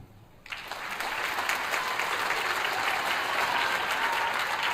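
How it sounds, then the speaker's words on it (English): Audience applause at a 5th and 7th grade school band concert, starting abruptly and holding as a dense, sustained crowd clapping until the end. "when he puts his hands down, we all clap"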